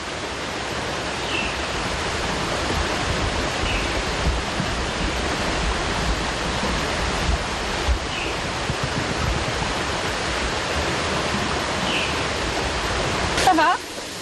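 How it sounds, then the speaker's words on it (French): Steady, broad rushing of the Galion river in Guadeloupe fills the whole stretch, loud and continuous, with a faint brief chirp near the end. "La rivière du Galion fait son apparition"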